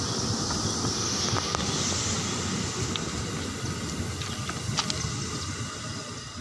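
A JR 205 series KRL commuter electric train rolls past at a station, a steady loud rumble of wheels and carriages with occasional metallic squeals and clanks, continuous throughout.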